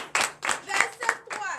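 A church congregation in Comè, Benin, claps in a burst of quick, uneven handclaps during a Sunday service, with a voice briefly audible over them.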